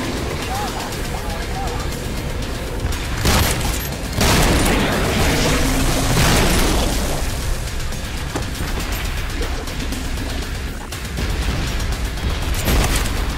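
Explosions in the shooter game Trepang 2 boom out as heavy bursts, several loud blasts rising around the middle and end over a constant layer of game noise and chatter.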